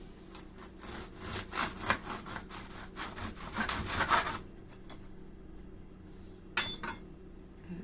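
A knife saws back and forth through a crusty loaf, a quick series of rasping strokes that stop, followed by a couple of faint scrapes.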